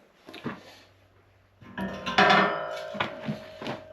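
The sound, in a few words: metal middle buster piece slid into 3-point rake frame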